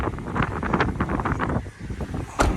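Wind gusting outdoors around a parked 2010 Lincoln MKX, a steady broadband rush with buffeting microphone noise throughout, briefly easing then gusting again near the end.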